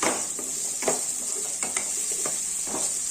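Vegetables and curry leaves sizzle softly in a pan for semiya upma, with steady frying hiss broken by several scraping stirs of a spoon against the pan, close and alone with no talking.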